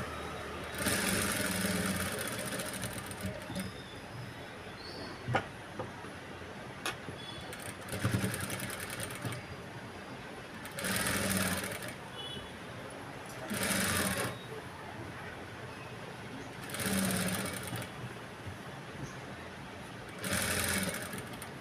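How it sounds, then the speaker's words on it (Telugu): A sewing machine stitching a boat neck blouse in bursts of running stitches, separated by brief pauses, close and steady with a motor hum under each run. "ఇదైతే స్టిచ్చింగ్ చేస్తున్నాను చూడండి."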